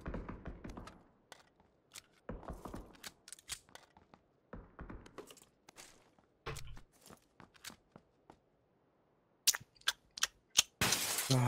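Gunfire in the video game PUBG: scattered single shots and quick bursts of sharp game gun cracks at varying distances, with quiet gaps between them, then a dense close flurry near the end. No talk.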